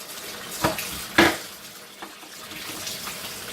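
Warm tap water runs steadily over Breville juicer parts being rinsed, a continuous hiss broken by a couple of sharp clatters of plastic pieces against the sink.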